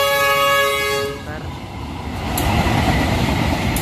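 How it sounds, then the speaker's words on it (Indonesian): A train horn blares with steady harmonic tones for about a second, then the rumble and clatter of the train passing through rice fields swells and continues loudly. "ini baru lewat kereta api Shatter Express"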